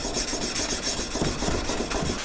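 A knife blade is hand sanded with 400 grit abrasive in repeated close, dry rasping strokes, a steady back-and-forth scrubbing with no voices.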